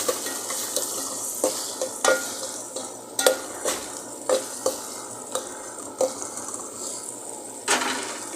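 Tomatoes sauté in a pan for home-style chicken curry, a soft sizzle broken by a steady run of sharp spoon-against-pan scrapes and taps every half second or so.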